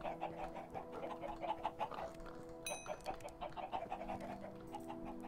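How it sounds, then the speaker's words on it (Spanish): Chickens clucking in the Minecraft video game, a busy run of short repeated bird calls over steady synthesized background tones, fairly loud and continuous with no talking. "se oyen las gallinas desde aquí"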